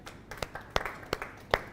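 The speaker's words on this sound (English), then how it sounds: "just another round of applause for Arlo" A faint round of applause from a small class audience, several scattered claps ringing out sparsely and unevenly in quick succession.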